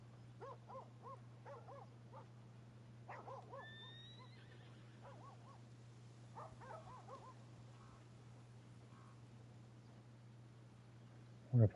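A horse whinnies in Red Dead Redemption 2, with a few wavering calls near the start and a brief rising cry around the middle, over a steady low game hum and quiet ambient sounds, ending in a sharp thump.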